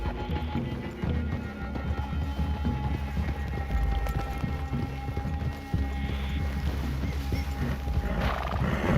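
Horses ridden through a clearing in a video game, with repeated hoof clops and movement sounds in a steady, fairly close rhythm, layered over a low game soundscape with occasional animal noises.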